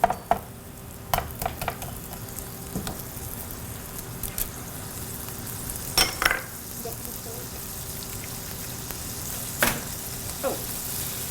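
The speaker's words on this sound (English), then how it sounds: "Okay, you can start adding the vegetables." Beef stir fry vegetables sizzling in sesame oil, a steady frying hiss with occasional clatters of utensils against the pan.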